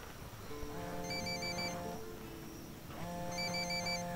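A mobile phone ringing inside the video game Ghost Recon Wildlands, a melodic electronic ringtone playing in two repeated bursts, moderately loud with no talk over it.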